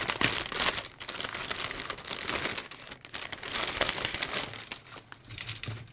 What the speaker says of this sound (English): So, again, resealable plastic bag.